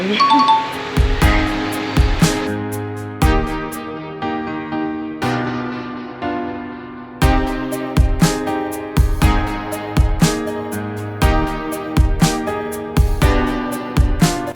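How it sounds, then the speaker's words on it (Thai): A large bronze temple bell at Wat Kalayanamit in Bangkok rings out with loud, repeated strikes, each leaving a long resonant hum that overlaps the next in a steady rhythm. "ซึ่งระฆังใบนี้เป็นระฆังใบที่ใหญ่ที่สุดในประเทศไทย"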